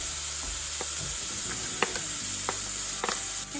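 Minced garlic hitting hot oil with softened onion and Scotch bonnet pepper in a pan, a soft, steady sizzle with a few light scrapes and taps of a utensil, nearby and without speech.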